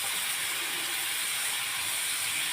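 Fish roe cooking in a hot pan gives off a loud, unbroken broadband hiss like steam, steady throughout with no distinct stirring hits and no voices.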